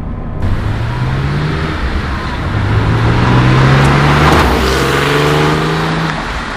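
A Porsche 911 Cabriolet engine rises and falls in pitch through a downshift, a steady mid-loud drone heard from inside the car with road noise underneath.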